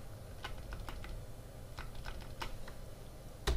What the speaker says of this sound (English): I'm going to hit the backspace key on my keyboard, and then I'm gonna hit the enter or the return key on my keyboard